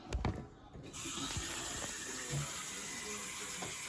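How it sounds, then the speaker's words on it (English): Water runs from a tap into a sink for handwashing, a continuous close splashing stream after a brief knock and clatter at the start. "You wanna wash your hands here?"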